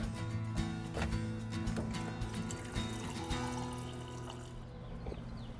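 A glass fills with water from a plumbed refrigerator dispenser, a steady close pour and trickle running for several seconds with no voices.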